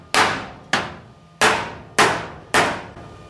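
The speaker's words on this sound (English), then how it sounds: "Maybe I'm just gonna wallop that with the hammer just to see what happens." A hammer strikes the welded steel front fender of a 1937 Zephyr in a home garage: five loud, ringing metallic blows spaced roughly half a second apart, each decaying quickly, close up with no talking.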